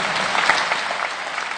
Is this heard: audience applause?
yes